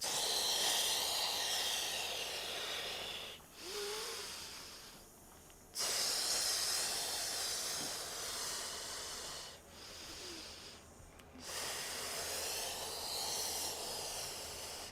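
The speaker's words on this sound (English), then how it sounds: "Just breathe in, breathe out, breathe in, breathe out." Slow, deep breaths in and out during a recovery session, each long airy hiss of inhaling and exhaling separated by brief pauses, close and steady, with no talking.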